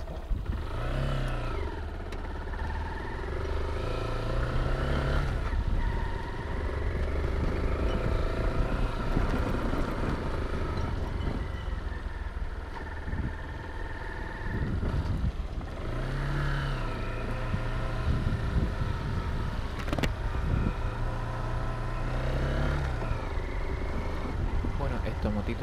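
A Honda XR190L motorcycle ridden hard at full throttle on Playa El Temblador, its engine droning and rising in repeated revving surges over wind and clatter, with a voice talking intermittently.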